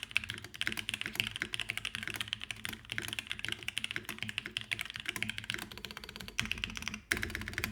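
Typing on an Odin Aurora65 keyboard fitted with factory-lubed red jacket switches and white-on-black Canon keys keycaps, a fast continuous patter of close keystrokes with a few louder strikes near the end, without speech.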